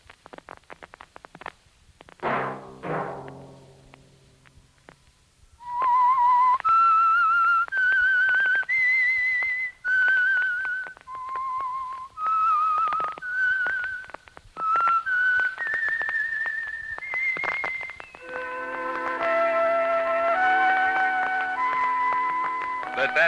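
A clear, close whistled melody of sustained notes rises and falls, preceded by a short musical flourish and joined by orchestral backing near the end: the theme of the 1952 radio drama The Whistler.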